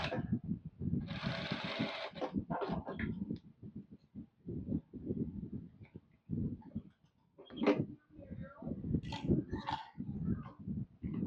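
A sewing machine runs in a short burst, stitching a narrow fabric strip for a child's headband, whirring briefly near the start amid close handling noises, thumps and occasional faint dog barks.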